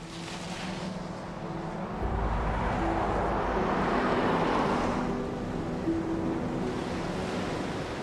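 Ocean waves surge and wash steadily throughout, building to a louder, heavier crash in the middle before settling back to a continuous broad roar of surf, with some wind noise mixed in.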